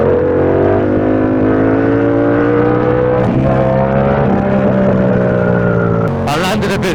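A motorcycle revs hard during a night wheelie on a London ride, a loud, close engine whine with rising and falling pitch that drops and cuts out near the end as other bikes sound nearby.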